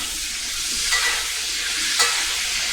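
Cloud eggs sizzle in a pan as they are basted, a loud, steady hissing fry with two brief swells of sharper spitting and splashing from the basting strokes, with no voice over it.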